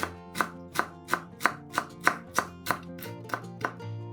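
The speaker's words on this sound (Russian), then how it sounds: "Нарезаем пучок укропа." A knife chops a bunch of dill steadily on a board, about a dozen evenly spaced crisp cuts, close and fairly quiet, with no talking.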